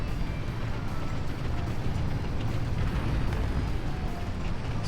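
A tank burning after being hit in War Thunder Mobile gives a loud, steady, roaring rumble of fire and engine noise that holds at an even level throughout, with no voices.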